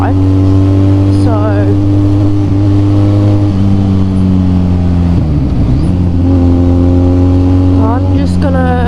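A Harley-Davidson X350 motorcycle engine drones steadily while climbing Saddle Road, with a few rising rev changes, loud and close, mixed with wind rush and occasional voice.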